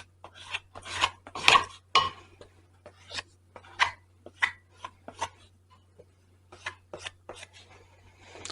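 Metal dough scraper rasping and scraping across a floured board while soda bread dough for Irish treacle farls is worked, a run of short, uneven scrapes up close with brief pauses between strokes.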